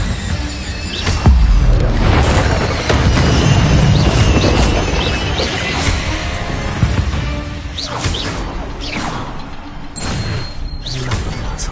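The Incendio fire spell cast in Hogwarts Legacy, loud whooshing flame bursts and booming pops over several seconds, with sharp crackling spikes near the end.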